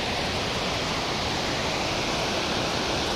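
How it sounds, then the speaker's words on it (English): A loud waterfall in woodland pours as a steady, broad roar of rushing water, close by and unbroken from start to finish, with no voices. "stand by the waterfall."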